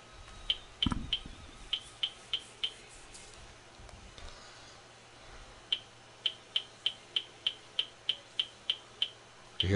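Cricket-like chirp alert from trading software, sounding as a run of sharp, evenly spaced ticking clicks early on and a longer, louder regular series near the end over a faint steady hum.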